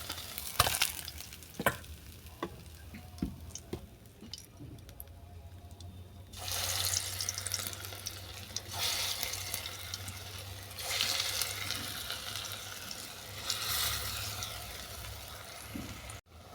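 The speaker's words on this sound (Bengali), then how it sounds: "এই তেলে আমি বড়াটাকে ভেজে নেবো" Cauliflower stalk fritters fry in oil left from frying fish, starting with scattered pops and crackles that swell into loud, rushing waves of sizzling, with no voices.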